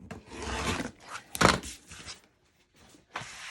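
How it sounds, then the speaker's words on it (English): Scissors or a blade cut through excess fabric and vinyl on a gold zip bag, giving close rasping, rubbing snips in short bursts with a pause before a final cut. "I want to cut off all this excess, the excess fabric, the excess vinyl"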